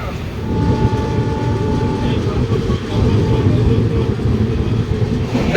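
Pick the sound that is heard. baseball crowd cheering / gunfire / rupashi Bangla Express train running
rupashi Bangla Express train running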